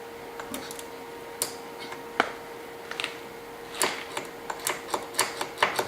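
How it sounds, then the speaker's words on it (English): An automatic centre punch strikes metal to mark screw hole centres in an off-grid fabrication workshop. Sharp, close snaps come one at a time, irregular at first and then a quicker run of clicks over a faint steady hum. "It's an automatic centre punch,"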